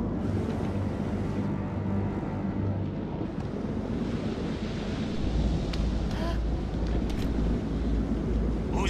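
Stormy sea in the video game Man of Medan: a steady roar of wind and crashing surf fills the whole stretch, with deep rumbling swells building louder toward the end.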